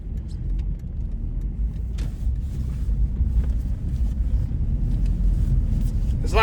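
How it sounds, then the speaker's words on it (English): A BMW car spins its wheels in fourth gear while driving toward the Arctic, giving a loud, steady, low rumble that builds slightly, with a short vocal sound near the end. "It's spinning the wheels in 4th gear."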